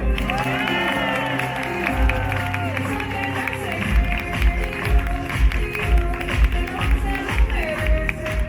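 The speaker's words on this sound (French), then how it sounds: "Je vous demande de chaleureux applaudissements, s'il vous plaît, pour Bernardo." An audience at a Zorro show at Ok Corral applauding: sustained clapping and crowd noise over loud show music, continuous and close throughout.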